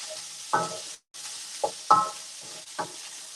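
Sliced mushrooms fry in oil in a pan, giving a soft steady sizzle broken by several short stirring scrapes and clatters, with one brief gap of silence.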